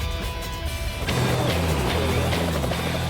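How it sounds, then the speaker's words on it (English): A helicopter lifts off from a desert airbase with a loud, steady low rotor and engine roar that swells after the first second and stays strong and close. "a helicopter lifts off from a desert airbase"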